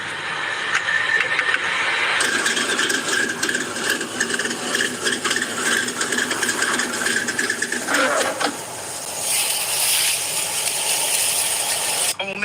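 A hand ratchet clicks rapidly and steadily in a workshop while being worked on a cracked-block race engine, the mechanical clatter continuing for several seconds before a brief pause and a final burst of ratcheting.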